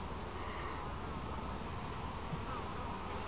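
A busy hum of yellow Buckfast honeybees buzzing steadily around an apiary, a continuous insect drone close by with no voices.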